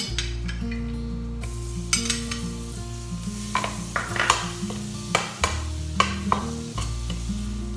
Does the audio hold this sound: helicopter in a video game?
no